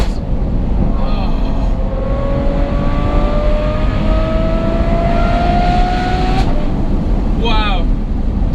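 Loud, steady exhaust roar from a Ferrari F12 fitted with a Novitec N-Largo kit, holding high and rising slowly in pitch before easing off near the end; people talk over it.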